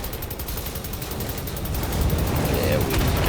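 Gunfire from a reloaded weapon in Wolfenstein: The New Order, a dense rattle of shots under game ambience that grows louder and heavier after the first couple of seconds.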